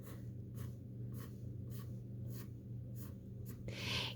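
A pencil or marker draws on paper for a Wayne Thiebaud-inspired dessert picture, giving repeated short scratchy strokes in an even rhythm, close and quiet over a low steady hum, ending with a brief louder rub.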